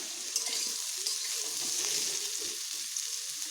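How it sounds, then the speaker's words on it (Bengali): Potatoes and radish sizzle steadily as they fry together in a pan, a continuous hissing crackle with faint stirring clatters, close and fairly quiet. "আলু ও মূলোগুলোকে এইভাবে একসঙ্গে বেশ ভালোভাবে আমি এগুলোকে ভেজে নিচ্ছি।"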